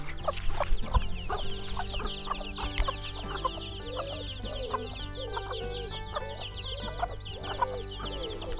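Young, growing chickens cluck over and over in short, irregular bursts, close by, with steady farmyard background noise and no talking.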